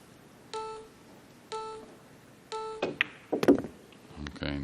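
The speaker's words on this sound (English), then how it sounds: "Nicely done, especially with the beeping of the time clock during his backswing." At the 2021 US Open Pool Championship final, a shot clock gives three evenly spaced electronic beeps, followed by a cluster of sharp knocks and thumps near the table.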